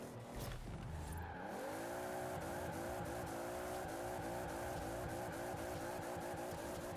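A 1600 horsepower Toyota GT86 drifts in the Forza racing game, its engine revving high and wavering steadily while the tires squeal continuously, loud and sustained, with no voices.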